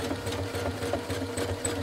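Sewing machine stitching a free-motion quilted pebble pattern, a steady, close, rapid mechanical whirring with even rhythmic pulses throughout.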